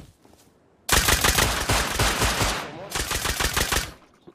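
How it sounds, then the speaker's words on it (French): Nail gun fire in the video game Rust: after a quiet start comes a loud, rapid burst of sharp repeated shots, a brief gap, then a second fast volley that stops abruptly. "J'en ai tué un avec pistolet à clou."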